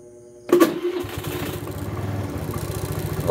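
A Rusi Flex 125i scooter engine starts with a sharp catch after a brief quiet moment, then settles into a steady, close, mid-pitched idle with a regular putter.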